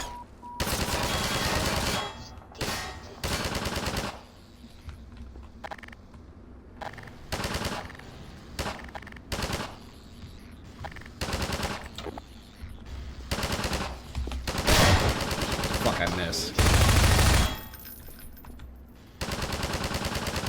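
Gunfire in the Half-Life 2 Episode 1 video game, with repeated loud automatic bursts broken by short pauses, some shots heavier and longer, continuing over twenty seconds.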